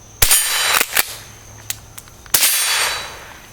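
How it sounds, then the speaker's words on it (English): Rossi model 62 pump-action .22 LR rifle fired outdoors at a range, with sharp cracks and ringing metallic pings from bullets hitting a large steel plate, three loud shots spaced over a few seconds, each trailing a brief echo. "take a couple shots on the steel plate there, the big one"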